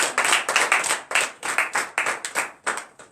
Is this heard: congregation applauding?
yes